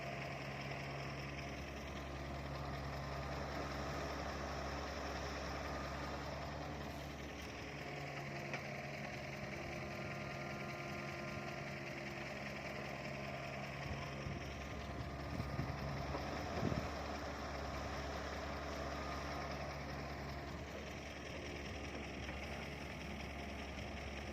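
A new tractor's engine idles with a low, steady, continuous drone while it dredges a rice paddy field, heard at moderate distance with faint wind and no one talking.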